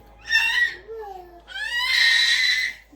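A young girl screaming and wailing indoors in a home kitchen, two loud drawn-out shrill cries close by, separated by a brief lower whimper.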